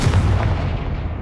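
A Confringo fire spell blast in the game Hogwarts Legacy, a single loud booming burst that rolls off and fades over about a second.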